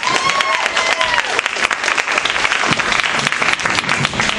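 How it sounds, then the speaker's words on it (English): A comedy club audience claps steadily for a comedian being introduced, a dense, close wash of applause with a few whoops that holds for several seconds. "Everybody, give it up for my buddy Farley."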